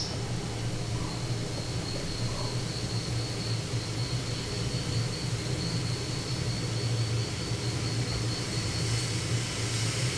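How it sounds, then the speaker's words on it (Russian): A small training airplane takes off at an airfield used for pilot training and glider towing, heard as a steady, fairly distant engine drone under wind-like broadband noise throughout. "И так вот буквально каждые 15 минут взлетает 1-2 самолета."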